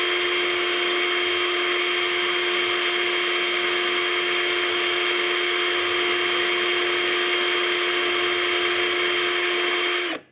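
An Edon ED3-121 12V cordless drill driver runs steadily at full speed, a loud, continuous high-pitched whine held for about ten seconds before abruptly stopping.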